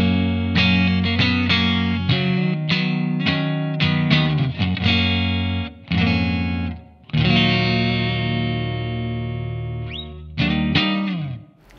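An electric guitar plays through a Blackstar AMPED-1 100-watt pedalboard amp: distorted chords and riffs with sustained ringing notes, sharp stops between phrases, and a loud, dense sound with no talking.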